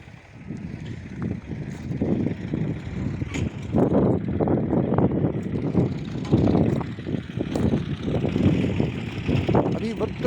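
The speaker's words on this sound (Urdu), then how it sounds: "اس کو کہیں ٹریکٹر کو تھوڑا تیز چلاؤ۔" A tractor engine runs in a cotton field with a steady low rumbling drone, fairly close and continuous, while someone talks over it.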